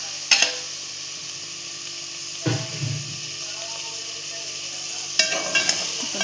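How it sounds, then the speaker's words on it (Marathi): Raw prawns dropped into a hot pan for a spicy Marathi-style prawn rice, giving a steady sizzle with soft bursts of frying and spatula stirs at intervals; no talking. "आता कोलंबी घेतली टाकून देऊया आपण."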